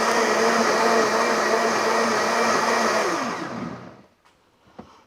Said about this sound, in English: And now we are going to blend this.